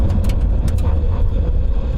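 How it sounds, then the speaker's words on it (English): A Lamborghini Huracan STO braking hard from 60 mph, heard as a loud low rumble of road and engine noise from inside the car with brief higher bursts of tyre and brake noise. "Let's try an emergency stop from 60 miles an hour though."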